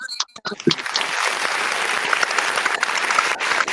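Audience applause at a community event, a dense burst of clapping rising after a few loud opening sounds and holding steady, with voices mixed underneath.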